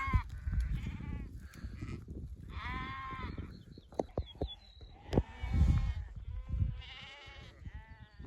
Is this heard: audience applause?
no